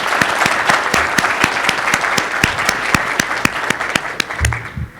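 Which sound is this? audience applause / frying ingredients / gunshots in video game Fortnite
audience applause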